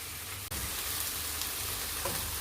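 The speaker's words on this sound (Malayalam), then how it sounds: "ഇനി നമുക്ക് റെഡിയാക്കിയ ചിക്കനും കൂടി ഇട്ട് കൊടുക്കാം." Chicken dropped into hot oil and tomato masala for pepper chicken, an abrupt plop followed by steady close sizzling and frying with faint stirring, running on with no speech.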